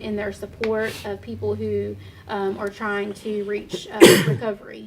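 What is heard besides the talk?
sneeze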